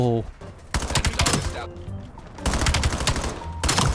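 Rapid gunfire bursts from a futuristic multiplayer shooter set in 2035, Call of Duty: Black Ops 7, crack loudly in quick volleys with short pauses between them, while someone speaks briefly over the game action.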